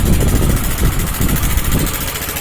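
A Bajaj Discover 150cc motorcycle engine runs loud and close after repair, idling with a rough, steady low throb and a rapid pulsing rhythm.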